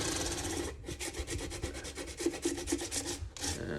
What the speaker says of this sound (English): some 600 grit sandpaper, and I'll just kind of go over the whole fretboard